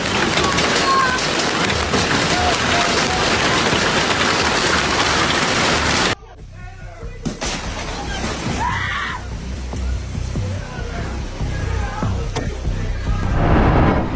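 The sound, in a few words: powerful hailstorm pounding a city, Munich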